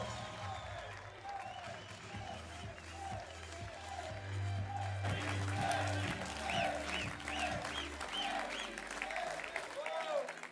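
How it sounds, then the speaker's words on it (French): Audience applause at a young farmers' campaign launch meeting, steady clapping throughout with a voice speaking over it and music playing underneath. "Merci pour vos applaudissements"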